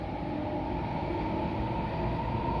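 A steady low rumble and rattle of an express train in motion between AsiaWorld-Expo and Hong Kong International Airport, heard from inside a near-empty carriage, continuous and even with no voices.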